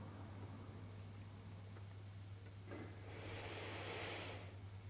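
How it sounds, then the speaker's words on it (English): Slow nasal breathing during a relaxed breathwork meditation, heard as a soft, close airy exhale through the nose that rises into a hissy rush over a low steady hum. "The jaw relaxes closed, the breath leaves through the nose"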